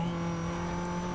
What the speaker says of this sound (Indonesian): Yuk kita habisin aja nosnya.